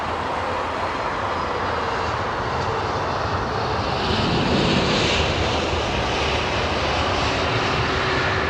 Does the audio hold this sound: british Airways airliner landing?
yes